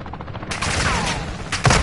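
Gunfire in the Call of Duty Modern Warfare 2 video game, a dense burst of rapid shots sustaining through the middle, followed by a louder heavy report near the end, close and loud.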